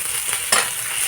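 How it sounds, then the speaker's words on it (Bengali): Dried fish (sidol) frying in a pan and being stirred, a steady close sizzle with a brief louder scrape of the stirring utensil midway, with no talk. "এবার শীতলগুলোকে ভালো করে ভেজে নিতে হবে"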